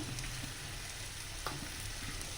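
Spice powders such as garam masala and coriander powder being sautéed in a pan for Kerala prawn roast, giving a quiet, close sizzle with a few soft stirring scrapes and no talking.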